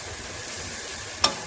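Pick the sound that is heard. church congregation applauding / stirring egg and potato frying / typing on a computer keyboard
stirring egg and potato frying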